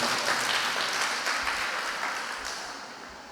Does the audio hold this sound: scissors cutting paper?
no